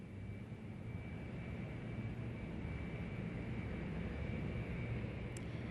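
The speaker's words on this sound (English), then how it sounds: "As the jet gets airborne, the familiar sight of the Kansas City skyscrapers comes into view." A jet aircraft taking off from Kansas City: a steady, continuous engine roar with a thin high whine running through it, even and unbroken for several seconds with no speech.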